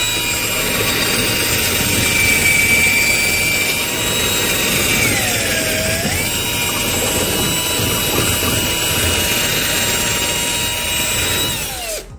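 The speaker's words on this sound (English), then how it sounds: "What I like to do is make the hole first." Power drill boring a hole to fit a carbon fiber diffuser on a 2022 Genesis G70, a loud, continuous whine for about twelve seconds with a pitch dip midway, close and alone.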